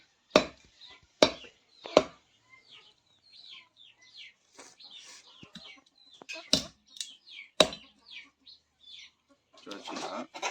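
A cleaver strikes a cutting board in sharp, loud chops at an uneven pace while cutting a village chicken into small pieces, with birds chirping and clucking softly between the blows.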